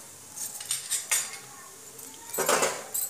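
A spoon scrapes and clinks against a metal pan or bowl in a few irregular strokes while salt, chilli powder and spices are mixed into sweet corn, close and moderately loud.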